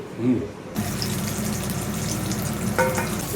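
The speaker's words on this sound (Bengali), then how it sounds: "তুমি ওঠো আমি বড়া ভাজছি" Fritters (bora) fry in hot oil with a loud, steady bubbling sizzle that starts abruptly and continues close-up, with a brief clink of a spoon near the end.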